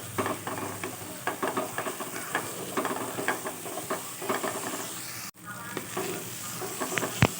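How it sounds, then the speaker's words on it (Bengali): Washed, drained rice stirred and fried with spices in a pan for a vegetarian potol dish, with a busy close sizzle and rhythmic scraping of the spatula that keeps going throughout, broken once by a short pause. "চালটা একটু মশলার সাথে ভালো করে ফ্রাই করবো"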